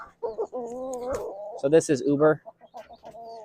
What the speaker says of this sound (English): this is one of Lisa's favorite chickens